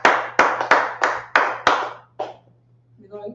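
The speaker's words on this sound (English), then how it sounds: "Clap it up for the class." About seven sharp, loud claps ring out in a steady, even beat for an online religious class, then stop, and a faint voice follows briefly.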